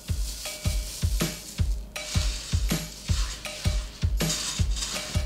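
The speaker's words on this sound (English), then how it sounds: "I'll add about a small bowl at a time and keep mixing until I can't add any more Rice Krispies" Rice Krispies are mixed into melted toffee and chocolate in a pan kept over the heat, making rhythmic scraping, crackling stirs roughly twice a second. Each stroke is loud and close, with no voices.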